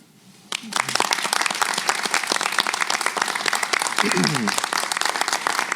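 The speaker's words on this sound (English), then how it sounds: "this round of applause from us on the stage is for all of you" After a quiet moment, performers on stage and the audience break into loud, crisp applause that stays thick and steady, with a brief murmur of voices partway through, at a live storytelling event.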